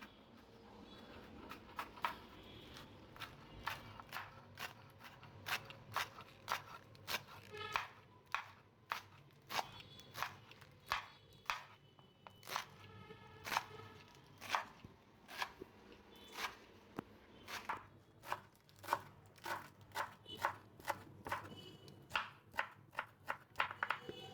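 Knife chopping through Malabar spinach leaves on a board, a steady run of close, crisp cuts in quick rhythm for the whole stretch, with no talk.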